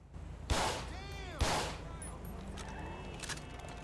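Two sharp gunshots in the video game GTA V ring out about a second apart, each trailing a ringing echo, over a low engine-like hum with a voice talking faintly.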